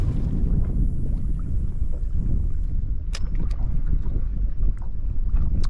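Wind blows over the water on an inshore fishing outing, a loud, continuous low rumble and buffeting against the microphone, with light splashes and knocks on top.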